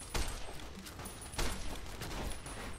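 Gunfire in the video game Fallout New Vegas: two heavy shot bursts with rumbling low-end tails, a fainter third near the end, over a steady noisy background with no talking.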